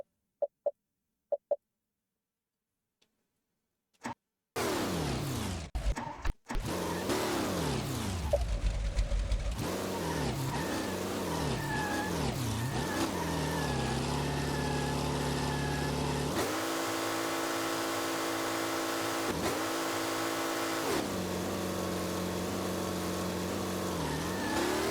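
A drag race car with an LS engine in Street Legal Racing: Redline, launched off a trans brake. After a few faint clicks, the engine roars in loudly and revs hard through rising and falling pitch sweeps, continuous and close, for the rest of the run.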